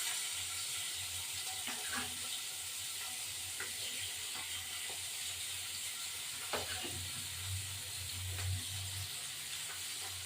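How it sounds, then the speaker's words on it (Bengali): Tengra fish rubbed with salt and turmeric fry in hot oil, giving a steady, fairly quiet sizzle and crackle with occasional sharper pops, heard alone without any talk. "এখন মাছগুলো তেলের মধ্যে ভেজে ভাজা করবো"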